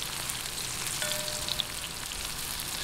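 Chopped onions sautéing in a frying pan for a Filipino gising-gising dish, a steady, close, continuous sizzle and crackle with no pauses and no talking.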